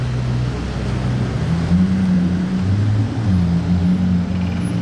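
A McLaren Senna hypercar on a street in Monaco: a loud, steady low engine drone with shifting tones fills the whole stretch, close by, with no other sounds standing out.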